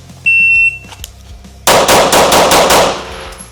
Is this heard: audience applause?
no